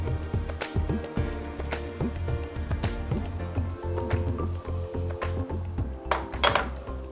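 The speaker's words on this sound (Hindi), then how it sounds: "इसमें हम डालेंगे रागी का ये आटा और इसको हम मिला लेंगे" Ragi flour being mixed into hot ghee in a pan, heard as repeated clinks and scrapes of a metal spoon against cookware, close and irregular, with no talking.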